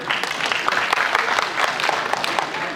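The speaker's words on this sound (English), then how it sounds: "Can we have a round of applause for her?" An audience at a college freshers' event claps steadily, a dense and lively round of applause filling the whole moment without speech.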